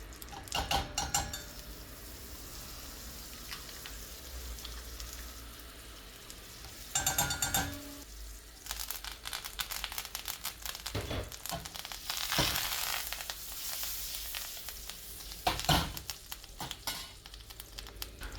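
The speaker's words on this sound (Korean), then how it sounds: "팬의 잔열로 버터를 녹여줍니다." Butter, crushed garlic and thyme melting from residual heat in a hot steak pan, a soft sizzle and crackle with occasional clatter and scraping of utensils against the pan, fairly quiet overall.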